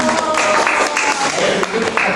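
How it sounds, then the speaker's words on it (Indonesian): An audience gives brief applause for a speaker during an Islamic talk on types of impurity, scattered clapping mixed with voices over a short burst. "Tepuk tangan untuk Mas Paroto."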